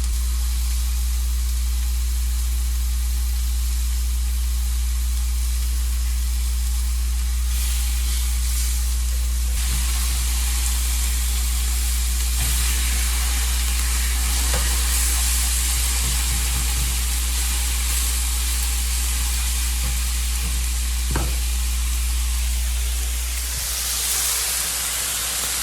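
Chicken pieces fry in a pan with a loud, continuous hiss and sizzle that carries on steadily for a long stretch, with a low hum underneath and occasional clicks.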